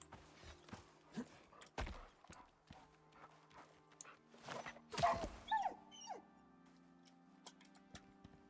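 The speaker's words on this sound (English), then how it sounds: "Poor dog, right?" A dog whimpers in the survival game Icarus, with a few thin, rising whines amid soft footsteps and knocking.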